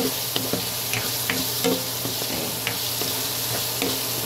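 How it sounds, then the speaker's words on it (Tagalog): Meat sautéing in a pan with onion, garlic and tomato gives a steady, loud sizzle throughout, with scattered clicks and scrapes of stirring layered over it. "Ito, ginigisa ko na, nilagyan ko na ng sibuyas, bawang, kamatis at saka bawang."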